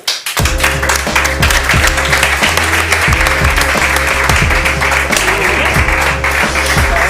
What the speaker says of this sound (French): Je demande d'applaudir bien fort Valentin Renner.